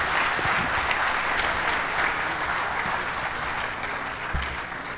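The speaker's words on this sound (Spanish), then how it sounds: "Un aplauso para ellos." Sustained audience applause for the speakers at the close of a question session, a thick, even wash of clapping with a few sharper nearby claps standing out.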